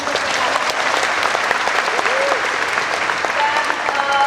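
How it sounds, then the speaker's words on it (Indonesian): An audience at a live on-stage talk-show event applauds loudly and steadily, the clapping dense and continuous throughout with no speech over it. "Kita kasih tepuk tangan dong."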